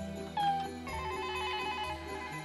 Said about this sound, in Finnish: Pakko soittaa Laurille taas.